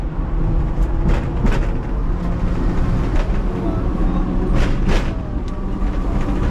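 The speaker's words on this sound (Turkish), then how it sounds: "Şu katlı bu tramvaya bindik şimdi." Rumbling interior of a moving double-decker tram in Hong Kong, with steady low mechanical drone and occasional squeaks and clatters as it rolls along.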